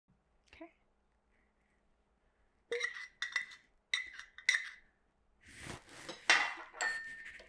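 A utensil clinks and scrapes against a bowl in short bursts while stirring an Indian spiced chevdo mixture of oil and honey, fairly close and quiet, with a pause before a longer run of clatter.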